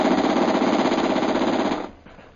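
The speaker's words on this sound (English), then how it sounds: "Fire the machine gun" Machine gun fires in one sustained rapid burst, loud and close, for under two seconds, then cuts off into a fading tail.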